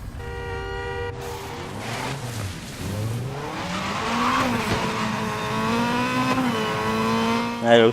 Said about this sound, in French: le bruit de toutes les voitures, je vous dirais qu'il défonce